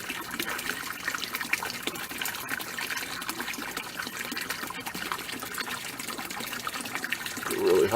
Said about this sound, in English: a nice little koi pond